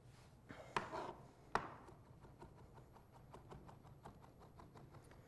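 A knife finely minces mushroom stuffing on a cutting board, giving a couple of sharp, louder chops early and then a steady run of quick, light taps, faint and close, with no talking.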